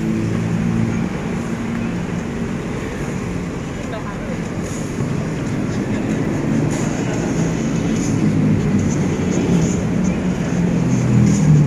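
An MRT metro train in Kuala Lumpur rumbles continuously and loudly, a broad steady roar of rail noise swelling slightly over time, with voices faintly beneath it.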